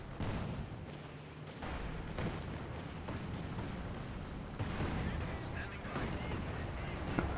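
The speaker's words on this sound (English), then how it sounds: "Taking small arms fire." Small-arms fire rattles through a tank battle in a World War II video game, steady bursts and distant thumps layered under continuous engine rumble and battle noise.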